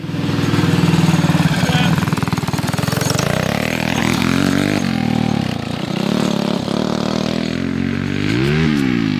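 A small shifter kart racing engine roars loudly and steadily, revving up and down with a buzzy, high-pitched whine close by.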